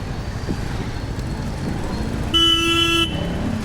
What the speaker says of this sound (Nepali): कडा जाम भयो कडा